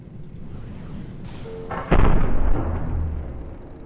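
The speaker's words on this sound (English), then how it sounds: "My particle cannons instantly fired and took down an enemy." A sudden booming particle cannon blast in the game From the Depths bursts out over a low rumbling game ambience, followed by a crackling, fading tail.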